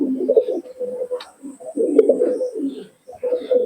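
Teddy pigeons at a pigeon sale cooing in soft, repeated throaty bursts, close and steady with brief pauses between phrases.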